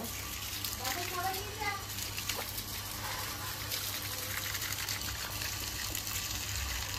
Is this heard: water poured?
yes